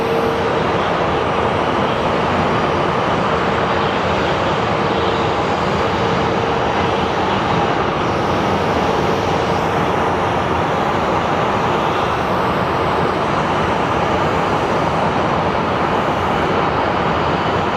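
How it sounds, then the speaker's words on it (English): Airbus A320 being pushed back at Phoenix Sky Harbor airport, a loud continuous jet engine roar and whine that holds steady throughout, with no talking. "And we have pushback of an A320."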